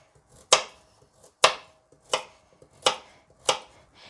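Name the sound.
knife cutting the ends off carrots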